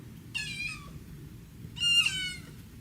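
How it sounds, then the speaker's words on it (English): A cat meowing to be let out in the early morning, two clear, fairly close meows separated by a pause, the second a little louder, against quiet background hum. "Do you hear her meowing?"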